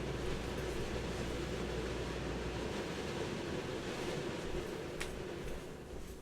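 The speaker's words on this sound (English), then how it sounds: "My air conditioner is coming on. It's going to mess with my sound." A home air conditioner runs at full blast in Florida, giving a loud, steady broadband roar that holds unchanged throughout, with no voices.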